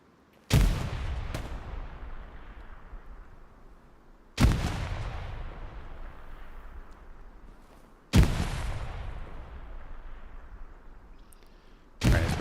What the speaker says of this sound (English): Grenades being tossed.